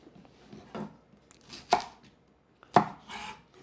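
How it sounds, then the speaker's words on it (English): A knife strikes a cutting board in a few sharp, separate chops while finely dicing shallots, close and fairly quiet, with short pauses between cuts. "a tablespoon of diced shallots, finely chopped"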